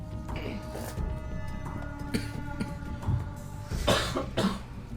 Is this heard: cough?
yes